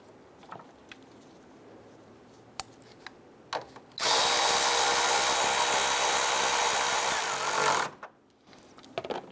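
A power tool, likely a drill or impact driver, drives and tightens a bolt on a 2005-2010 Chrysler 300 during a high beam bulb replacement, one loud sustained burst of about four seconds framed by quiet shop handling clicks.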